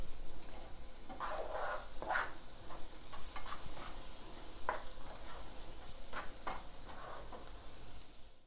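Vegan spaghetti sauce seasoned with black pepper cooks down in a pan, a low steady sizzle and bubble close by, with occasional scrapes and taps of a stirring utensil and no talk.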